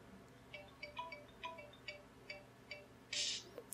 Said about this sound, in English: you could hear that there's a new ringtone